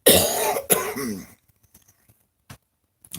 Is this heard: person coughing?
yes